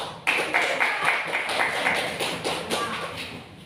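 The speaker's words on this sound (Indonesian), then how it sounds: "Oke, tepuk tangan dulu buat kelompok 1." A classroom group claps for a presenting team, a brief burst of dense, close applause from many hands with a few louder individual claps.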